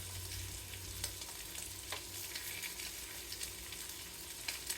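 Food frying in a skillet, probably with onion and sausage, gives a soft, continuous sizzle and crackle with scattered small pops, quiet and close, with no voices.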